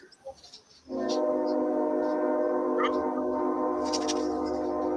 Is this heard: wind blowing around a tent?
no